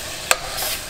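Vegetables sautéing in a pan for a tom yum hotpot broth give a brief sharp scrape of stirring followed by a soft, steady sizzle, close and fairly loud with no voices.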